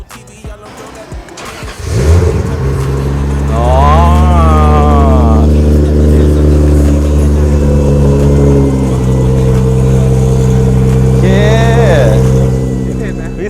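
A loud, modified car engine at a Thai modified-car show starts and revs up, holding a throaty roar with rising and falling pitch as it is blipped, while a voice briefly speaks.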